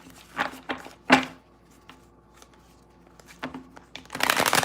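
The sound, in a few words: shuffling tarot cards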